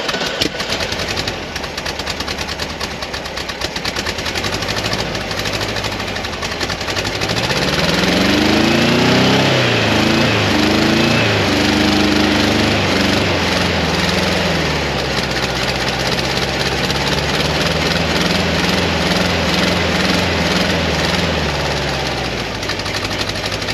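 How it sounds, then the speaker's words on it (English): Air-cooled engine of a 1968 Volkswagen bay window camper bus idling roughly on bad gas, a steady close chugging rumble with an uneven, missing beat and a brief swell in revs midway. "I'll just go ahead and fire it up real quick and we'll listen to it run."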